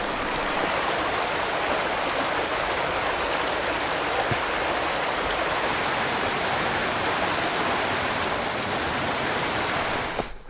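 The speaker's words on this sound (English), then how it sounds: "I imagine this is Rough Creek, huh? Our first little stream crossing." Rough Creek, a small mountain stream in the Great Smoky Mountains, rushing steadily over rocks, a loud, even wash of water close by with no voices.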